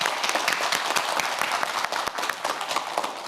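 An audience on a Korean quiz show applauds steadily, a dense, lively patter of many hands clapping throughout with no pause.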